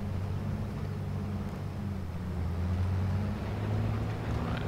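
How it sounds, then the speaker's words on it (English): Steady low engine drone from a farm vehicle in the video game Farming Simulator 22, a continuous rumbling hum with a slight airy hiss above it and no talking. "I love the way the engine changes,"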